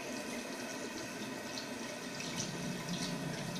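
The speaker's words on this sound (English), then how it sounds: "It's really nice, but it does need some hot water." Hot water poured into seashore-themed slime, a steady close stream of running liquid, even and continuous throughout without talking.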